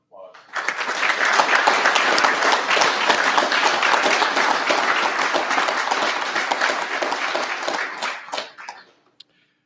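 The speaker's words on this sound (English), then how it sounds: "About a round of applause." An audience applauding at a Civil Air Patrol Silver Medal of Valor presentation, a full, sustained burst of many hands clapping that swells quickly, holds for several seconds, then thins out to a few last claps.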